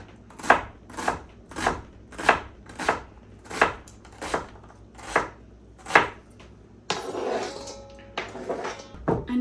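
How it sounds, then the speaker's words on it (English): Knife chopping an onion into small pieces on a cutting board, about ten evenly spaced, crisp thuds close by, followed by a clatter of pans and utensils. "If I cut it up small, I feel like it'll be fine."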